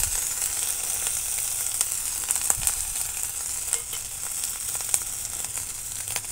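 Turmeric powder tipped into hot oil with fried ginger in a pan, a continuous bright sizzle with scattered small taps and crackles, close by, no talking.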